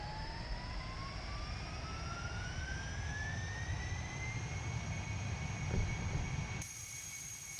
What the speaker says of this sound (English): as the engine comes on, you heard the door panels close underneath for the landing gear as the hydraulic system is engaged